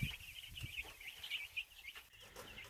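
Chickens on a farm on a busy afternoon: a constant chorus of high clucking and chirping, moderately close, with occasional louder calls and a few low thumps beneath.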